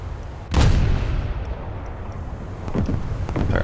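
One loud, deep naval gun blast from a ship's rear turrets in the War Thunder video game, with the SMS Von der Tann, followed by a rumbling decay and softer distant booms near the end.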